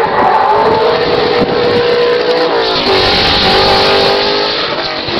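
A classic rally car engine screams past at speed, loud and continuous, with its pitch rising and falling through the gears and no talk over it.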